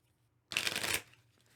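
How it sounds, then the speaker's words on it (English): A discard pile of cards riffled back into the deck during a solo tabletop game of Sentinels of the Multiverse Definitive Edition, one close, brisk, crisp shuffle lasting about half a second after brief quiet. "we have to shuffle our discard back into our deck"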